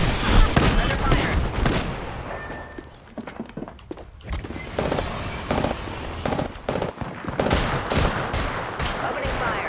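Rapid bursts of video game gunfire with sharp cracks and thumps, loud and close in clustered volleys with brief lulls, under game voice callouts.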